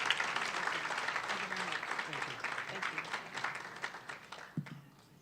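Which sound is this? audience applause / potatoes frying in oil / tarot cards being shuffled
audience applause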